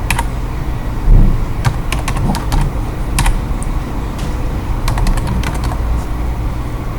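Numbers are being typed on a computer keyboard in quick irregular bursts of sharp, close key clicks, with short pauses between runs and a low room hum underneath.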